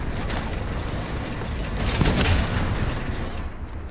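Gunfire in Resident Evil Requiem crackles as a rapid series of sharp shots over a rumbling background, fairly close and steady before cutting off.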